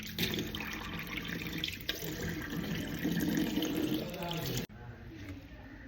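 A tap runs steadily into a sink while a tomato face pack is rinsed off, with close splashing and gurgling water throughout and a brief interruption near the end.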